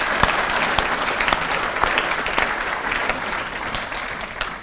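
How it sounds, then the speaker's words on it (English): Conference audience applauding the event's sponsors at a landscape architecture conference welcome, a dense, steady wash of many hands clapping throughout, fairly loud and close, with no speech over it. "if we can just give them a round of applause please"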